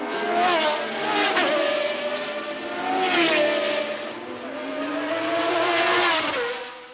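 Race cars at practice for the 1981 Las Vegas Grand Prix roar past in a series of loud, high-revving surges, engine notes swelling and fading as each car sweeps by.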